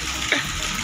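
Floodwater after heavy rain running through a street in Ajmer, a steady rushing gush of flowing water heard up close, with a brief splash partway through and no talk.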